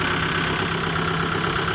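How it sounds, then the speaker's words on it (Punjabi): A Kubota MU5502 4WD tractor turning in second gear gives a steady, close, loud diesel engine drone with an even low throb and no voices. "ਆਹ ਦੂਜੇ ਗੇਅਰ 'ਚ ਲਓ ਜੀ ਪੂਰਾ ਹੈਵੀ ਪਿਕਅਪ ਆ ਟਰੈਕਟਰ ਦਾ।"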